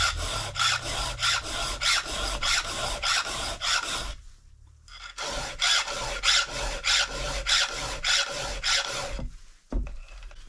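A file rasps steadily across a chainsaw chain's cutters by hand, giving evenly spaced strokes in two runs with a short pause between them, close and clear with no talk.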